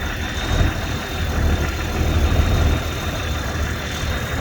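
An engine runs at raised RPM to drive the alternator, a steady, fairly loud close rumble with a thin whine above it and slight surges in level, with no talk.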